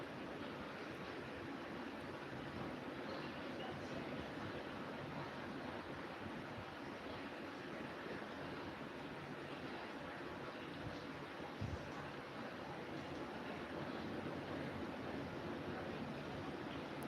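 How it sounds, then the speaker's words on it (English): Heavy rain pours outside, a steady, faint broadband hiss and wash that continues unbroken without any talk. "Man, it is raining."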